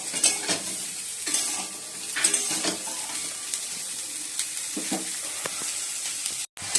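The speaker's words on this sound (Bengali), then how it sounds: "আলু তো ভাজা হয়ে গেছে, আর এবার ফুলকপিটা ভেজে নিচ্ছি" Cauliflower frying in a pan after potatoes, for a prawn curry: a steady close sizzle with repeated scrapes and stirring clatter from a utensil against the pan, no voices.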